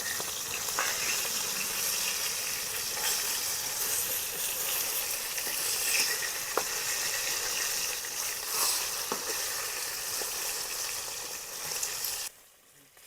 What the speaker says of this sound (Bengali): এই যে মাছগুলো দিয়েছিলাম কড়াইগুলো ভাজা হয়ে গেছে